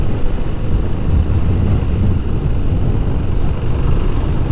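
A 2024 KTM Duke 390 motorcycle riding on through second, third and fourth gear, heard as a continuous dense engine drone buried under heavy wind rush on the microphone, no voices.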